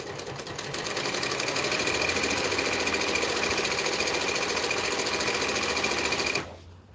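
A sewing machine stitches through thick shade sail fabric with a loud, steady, close mechanical whir that runs unbroken for about six seconds and then stops abruptly.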